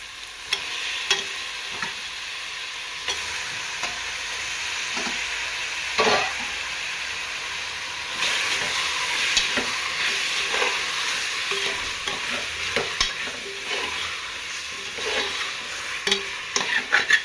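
Chicken curry is stirred and fried with garlic and ginger in a pan, giving continuous loud sizzling and repeated scraping strokes over about seventeen seconds without speech.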